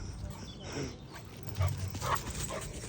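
A dog on an outdoor walk, racing around with zoomies, lets out soft yips, whimpers and a bark, fairly faint and scattered over a noisy open-air background.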